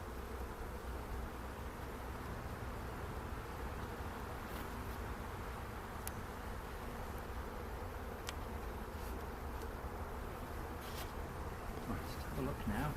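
Honeybees buzz and fan their wings at the entrance of a polystyrene hive, making a dense, continuous drone with a low hum that runs the whole time, quiet and steady, with a few faint clicks and no clear talk.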